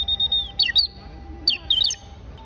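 A hand-held bird call used for hunting birds, bought in Rio de Janeiro, Brazil, mimics bird chirps in two close, bright clusters of quick rising-and-falling tweets separated by a short pause.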